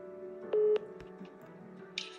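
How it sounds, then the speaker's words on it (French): Telephone keypad tones beep briefly as a call is dialed, a few short clear tones over a faint steady line hum, with a soft click near the end. "On se retrouve dans quelques secondes avec Christophe au bout du fil"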